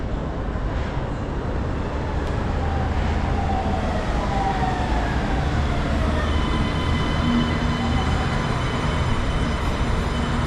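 A Macau light rail train rolls along with a steady, dense rumble and rail hiss throughout, with faint tonal whines rising and falling as it travels, heard from inside with no talk.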